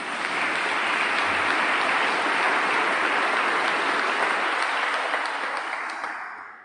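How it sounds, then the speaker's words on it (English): A large crowd applauding at a funeral service, sustained dense clapping that holds steady for several seconds and then begins to fade at the end. "That deserves an applause"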